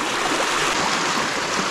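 Water rushing out through a breached beaver dam in a steady, loud, broadband wash, continuous and close, with no voices.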